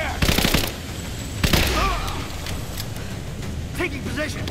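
Rapid bursts of automatic gunfire crackle in a Rise of the Tomb Raider firefight, sharp close shots mixed with shouting voices and ambient game noise.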